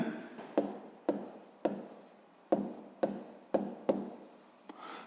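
Pen or chalk writing down a math solution for a sixth-grade exercise, a series of short scratchy strokes with sharp taps at the start of each, close and clear with no talk.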